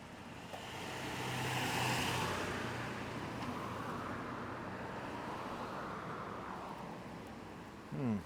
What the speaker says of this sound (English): Oh, look at all the traffic.